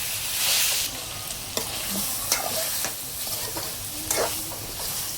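Pieces of shark fish fry in hot oil with a steady, dense sizzle and crackle, close by, broken by occasional soft scrapes of a spatula stirring, with no talking.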